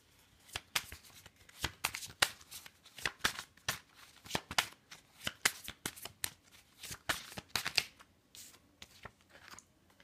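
Oracle cards being shuffled by hand, quiet and close, in a rapid irregular series of crisp riffling flicks and soft slaps.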